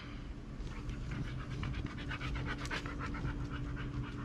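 A dog pants heavily and steadily in close range, rapid breaths repeating throughout with no talking.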